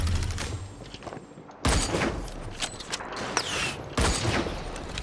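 Gunfire in the Hyper Scape online shooter, bursts of rapid shots cracking in clusters with short pauses between, fairly loud against game background noise.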